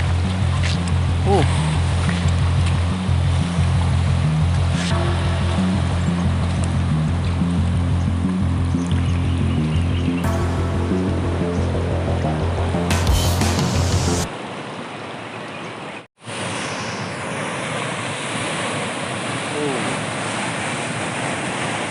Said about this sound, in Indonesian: Ada pantai di sini.